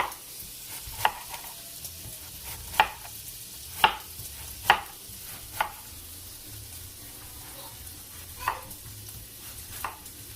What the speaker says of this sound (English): we'll go ahead and slice up my cabbage